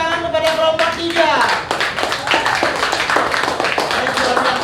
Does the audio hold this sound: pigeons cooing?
no